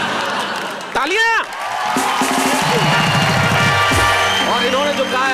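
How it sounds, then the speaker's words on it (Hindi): Audience applause at a Hindi comic poetry and ghazal stage show: sustained clapping fills the hall while a voice speaks and sings melodically over it. "तालियां।"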